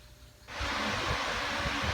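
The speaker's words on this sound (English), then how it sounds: "Sorry about the fan noise, but it's hot in here." An electric fan runs in a hot room, starting up half a second in as a steady, loud broadband whoosh that holds constant.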